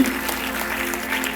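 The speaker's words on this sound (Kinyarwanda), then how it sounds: "Amashyi atari amasabano rwose yumvikanye byaba ari ibirori." Wedding guests applauding at a celebration, a brief wash of dense, even clapping from a crowd, moderately loud with no pauses.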